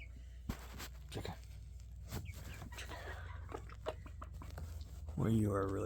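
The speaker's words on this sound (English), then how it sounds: "Chicken." Pet chickens loose indoors, destroying the carpet, give close, intermittent clucks and scratchy pecking sounds, while a person talks over them at a moderate level.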